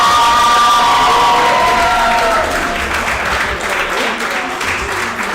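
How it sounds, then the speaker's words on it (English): Loud, sustained applause from a crowd with cheering and children's shouts, staying full and dense before easing slightly. "let's give him a round of applause."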